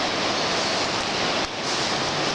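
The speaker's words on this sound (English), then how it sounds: "obviously you can hear the raging waters" A flooded New River rushes in a steady, loud roar of churning water, dense and continuous like heavy surf, with wind buffeting the microphone and no voices.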